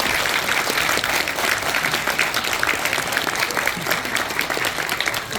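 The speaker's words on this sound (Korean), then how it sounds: "감사의 큰 박수 부탁드리겠습니다" Applause from wedding guests for the officiating monk and the ceremony helpers at a traditional Korean wedding, a dense, steady crowd clapping that stays loud and even throughout.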